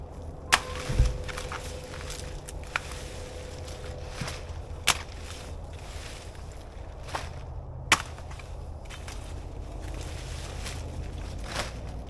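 Banana plant leaves being cut off by hand produce sharp, sparse chops and snaps at irregular intervals over a steady outdoor background, fairly close, with no talking.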